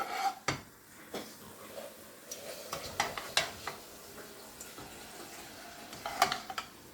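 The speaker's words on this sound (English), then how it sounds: "We're not looking to burn the whole spices, we're looking to slightly brown, starts popping." Whole spices browning in hot oil for fish curry, with a faint background sizzle punctuated by scattered sharp pops and a few utensil clicks, close by and quiet.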